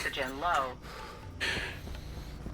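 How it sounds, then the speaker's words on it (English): Heavy, breathy panting from a player character in the video game Stationeers, a close rasping exhale rising after a short stretch of voice and then easing off. "also stop the heavy breathing at least a little bit"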